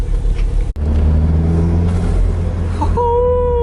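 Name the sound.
Toyota MR2 turbo spool and blow-off valve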